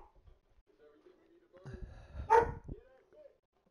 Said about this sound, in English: That's my dog there.